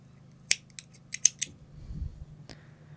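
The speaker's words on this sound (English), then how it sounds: "then we're gonna cut our yarn" Scissors snip yarn up close, a quick run of four or five crisp cuts followed by a single sharper snip after a short pause.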